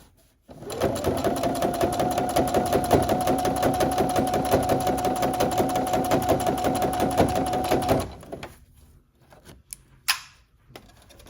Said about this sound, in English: you could actually do a back stitch, just to help secure in that handle